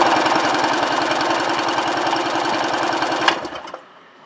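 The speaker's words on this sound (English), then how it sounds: "We're going to do engine compression test, and we will do the PTO side first." A 2001 Sea-Doo GTS personal watercraft with a 717/720 two-stroke engine cranks over rapidly during a compression test on the PTO-side cylinder, a loud steady rhythmic chugging that stops abruptly near the end.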